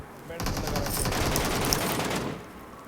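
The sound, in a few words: covering gunfire in the video game PUBG Mobile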